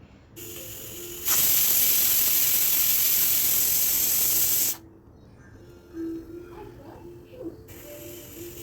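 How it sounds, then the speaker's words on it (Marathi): Pressure cooker on a gas stove cooking soybean biryani, letting out a loud, steady hissing whistle of escaping steam for a few seconds before it cuts off, leaving quieter kitchen sounds. "आता कुकरला झाकण लावून याच्या मी तीन शिट्ट्या काढून घेणार आहे"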